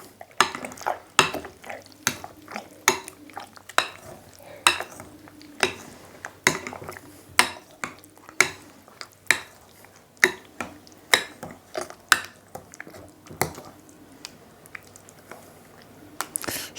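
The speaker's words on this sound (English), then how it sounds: "mix in the eggs. Making sure that I clean down the sides." Eggs being worked into gluten-free, inulin-free bun dough in a bowl: steady, close clicks and soft squishy scrapes repeat in a quick rhythm throughout, with no talking.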